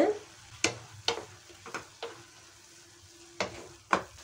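Carrot halwa cooking in a pan is stirred with several sharp scraping clinks of a spoon against the metal at irregular intervals over a soft sizzle.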